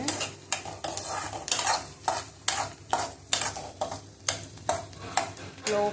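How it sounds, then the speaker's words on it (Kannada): Jeera rice frying and being stirred in a pan on a low flame: a steady soft sizzle with repeated scraping strokes of a spoon, rhythmic and close, with no talking. "ನಾನಿಲ್ಲಿ ಜೀರಾ ರೈಸ್ ಮಾಡ್ತಿದ್ದೆ"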